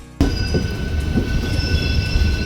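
A train rumbles along the rails close by. A steady, loud roar of wheels and carriage noise begins abruptly, with thin high wheel squeal tones running over it.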